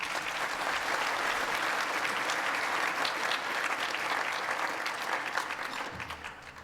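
Dense, sustained applause from a large audience at a formal awards gala, steady and loud throughout before easing slightly near the end.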